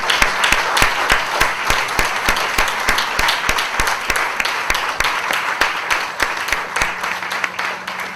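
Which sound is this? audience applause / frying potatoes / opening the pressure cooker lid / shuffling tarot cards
audience applause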